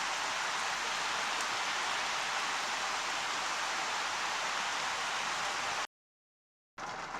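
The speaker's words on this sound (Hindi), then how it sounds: "बारिश बहुत तेज़ है।" Heavy rain pours steadily in the Philippines, a dense, even hiss close to the listener that runs unbroken, then cuts out briefly before resuming near the end.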